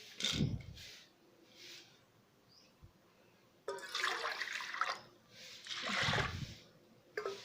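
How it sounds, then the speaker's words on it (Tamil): Water poured into a pressure cooker holding washed dal in a home kitchen, a splashing pour heard in bursts: one short at the start, then two longer, louder streams later, with quiet pauses between. "பருப்பு வேகிற அளவுக்கு தண்ணி ஊற்றிக்கலாங்க."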